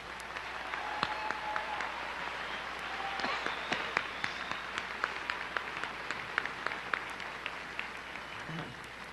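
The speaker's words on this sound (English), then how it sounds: "Let's give them one more round of applause." A graduating class at the Riverwood High School 2001 ceremony gets a round of applause: steady, moderately distant clapping from a large crowd, with a few sharper individual claps standing out through the wash.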